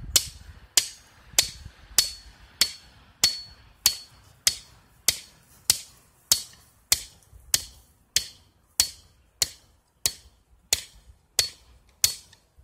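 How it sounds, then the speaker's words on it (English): Sharp metal-on-wood blows from a kitchen hammer driving wooden stakes into the ground beside tomato plants ring out one after another in a steady rhythm, about twenty strikes, loud and close with no talking. "You want a larger hammer, but if kitchen hammer is all you got, then it will work."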